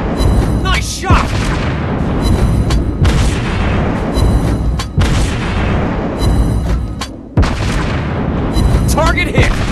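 Naval guns and shell impacts in the World of Warships Blitz game, with deep booming blasts and heavy rumbling explosions that repeat over a loud continuous battle din, overlaid by game voice callouts.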